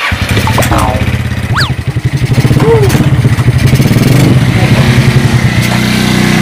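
A motorcycle taxi (ojek) engine runs close by, idling with a rough clatter and then revving up steadily. Brief voices come in over it near the start.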